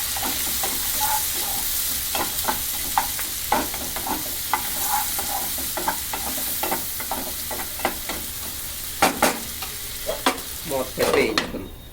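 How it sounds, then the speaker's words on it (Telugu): Finely chopped onions fry in a pan with a constant hissing sizzle, punctuated by frequent stirring scrapes and clatters that grow busier toward the end, close and unaccompanied by voices. "ఉల్లిపాయ ముక్కలు చిన్నగా కట్ చేసుకోండి చిన్నగా కట్ చేసుకోవాలి బాగా వేగాలి"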